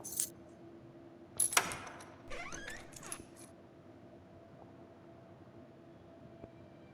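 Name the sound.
keys jangling in video game The Last Case of John Morley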